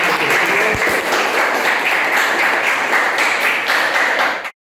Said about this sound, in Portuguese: Mais uma salva de palmas para o Augusto.